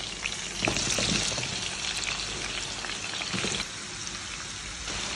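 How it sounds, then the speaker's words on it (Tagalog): Potatoes and carrots fry in hot oil, giving a steady close sizzle with crackling bursts and a few stirring scrapes, quieter in the final seconds. "Pirtuin pa na natin yung patatas at ang carrots."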